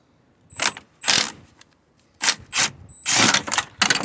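Ratchet clicking as two 8mm bolts are backed out on a BMW 116d 1.5 diesel engine, heard as several short bursts of metallic ratcheting with brief pauses between them, close and fairly loud.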